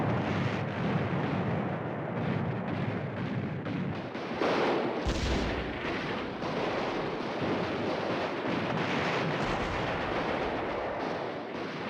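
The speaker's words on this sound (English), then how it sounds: "They're charging the mounted weapon. That's like artillery, though, right?" Booming artillery fire from a PS1 war strategy game where soldiers charge a mounted weapon, a dense continuous barrage of heavy blasts and rumble that stays loud for the whole stretch, with no talking.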